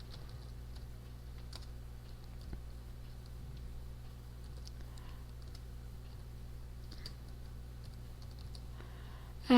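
A computer keyboard is typed on to enter a search, faint, scattered clicking keystrokes in a quiet room, with a few irregular bursts of taps.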